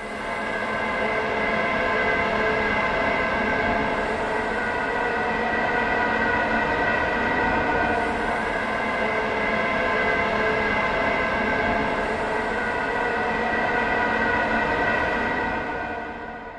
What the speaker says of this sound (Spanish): librería ambiental grabado en las protestas feministas en Irán, con 15 presets, con sonidos de las voces,